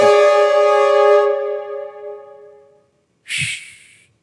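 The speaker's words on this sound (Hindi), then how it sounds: "तो आज का हूटर बज गया है" Game show hooter on KBC season 16, a loud, sustained buzzing horn blast that decays over a couple of seconds, followed by a short bright burst of another sound.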